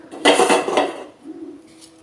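Moringa leaves and a ground coconut-style paste drop into a metal cooking pot, making a loud close clatter of metal and leaves that lasts about a second and is followed by a softer scrape.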